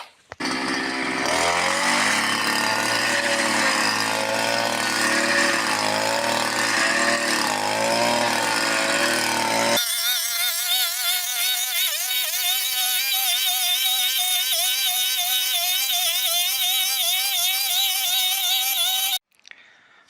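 A petrol brush cutter fitted with a bladed disc cuts through tough grass, hogweed and burdock, its two-stroke engine whining loud and steady close by, the pitch shifting as the blade bites into the growth.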